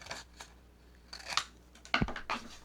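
Scissors snip through paper being trimmed to size for a no-sew book spine, several short crisp cuts up close with gaps between them.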